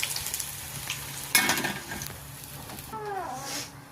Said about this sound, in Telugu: వేడి వేడి నూనెలో వేయాలి.